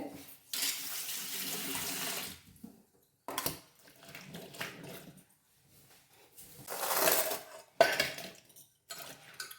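Tap water runs in bursts, splashing as sweet potato pieces are rinsed under it, with brief pauses and a few clinks of dishes in between.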